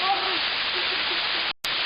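Rushing water pours down a waterfall at Mariianchyni waterfalls, a dense steady hiss heard close up, with a brief dropout near the end.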